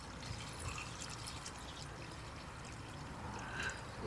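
Water poured from a can onto garden plants being fed and watered, a steady soft splashing trickle throughout, fairly quiet and close, with no talking.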